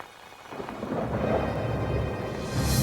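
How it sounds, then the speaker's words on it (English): Cartoon storm of rain and wind, a low rumbling roar that swells in after a quiet start and builds into a steady, heavy wash of rain and gusting wind. "the rain fell harder, and the wind blew in big, purple gusts"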